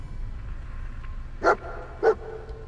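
Two sharp barks from a dog in Fallout 4, spaced about half a second apart, heard over a low steady game ambience with no talking.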